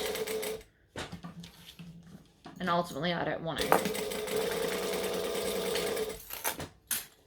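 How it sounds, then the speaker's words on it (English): A sewing machine stitches over the teeth of a zipper, a steady mechanical whir running for several seconds close up, with a person talking over the start. "And I'm sewing over the zipper teeth now."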